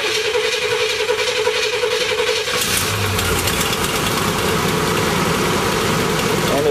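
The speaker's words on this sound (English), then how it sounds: "We're now going to finally attempt to start the engine after hopefully our last belt fix." A vehicle engine, just after a belt repair, catches partway through and settles into a rough, steady idle under a constant noisy background, with no clear talking.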